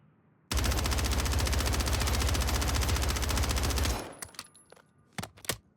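A sustained automatic burst of HRM9 submachine gun fire in Warzone 3, loud and rapid for about three and a half seconds, then a few scattered sharp shots and game effects afterward.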